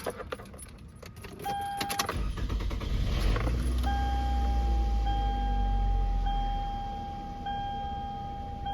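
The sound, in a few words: starting a 2002-2006 Toyota Camry 2.4L engine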